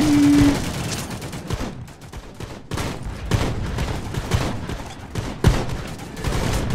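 Shotgun blasts and a rapid fusillade of plastic-army gunfire crackle through The Mean Greens, sharp repeated reports over a busy, steady layer of battle noise.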